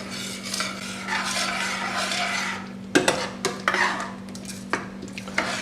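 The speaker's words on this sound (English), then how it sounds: "Give it a little stir around." Chicken tikka masala with cream being stirred in a pan: a soft bubbling simmer, then a run of distinct scrapes and clinks of a utensil against the pan, close and fairly loud, with no talking.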